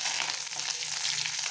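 Curry leaves dropped into hot oil as tempering for a rice chutney, giving a dense, even crackling sizzle that carries on steadily and close by.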